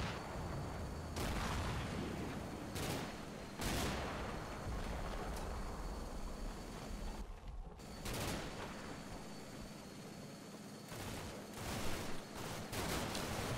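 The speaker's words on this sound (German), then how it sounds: "die explodiert in der Luft und regnet Schrapell runter" Artillery shells with proximity fuzes burst in the air and rain shrapnel in the modern-warfare strategy game Combat Mission Black Sea, a rapid series of loud booms and crackling blasts arriving in clusters, with a brief lull midway.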